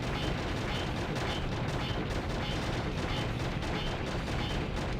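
Continuous rapid gunfire from the Shadow the Hedgehog video game as a full clip of ammo is emptied, a dense, steady rattle of shots with no pauses, loud and near.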